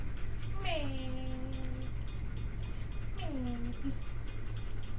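A cat meows twice, two drawn-out descending calls a couple of seconds apart, fairly faint over a steady low hum and background noise.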